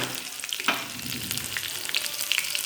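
Garlic sizzles and crackles in hot oil in a pan for a curry, a steady bright frying hiss with small pops and a stir, close and clear with no talking.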